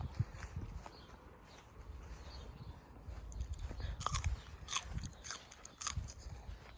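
Someone bites and chews fresh garden produce outdoors, crisp crunches and moist chewing close to the mic over low background noise.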